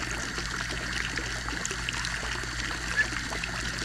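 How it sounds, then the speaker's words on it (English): Water pours and trickles steadily as an animal water container is refilled on a homestead during fall chores, a continuous soft splashing stream heard close up with no talking. "We refill this so that they have good clean water."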